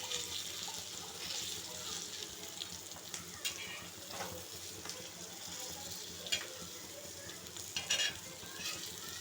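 Bangda mackerel fish sautéing in hot oil gives a steady, soft sizzle with occasional crackles and spatters, moderately close and fairly quiet throughout.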